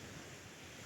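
Sea waves wash steadily at a winter camp by the shore, a broad continuous rushing hiss with wind noise blended in, faint and distant, with no voices.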